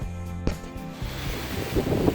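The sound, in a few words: wind blowing outdoors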